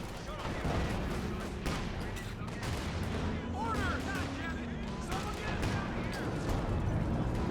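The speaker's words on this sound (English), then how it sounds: "artillery gets a great shot on the infantry" Continuous gunfire and artillery from a Company of Heroes 2 4v4 battle on Hill 400, with dense overlapping shots, booms and distant blasts rolling on at steady loudness.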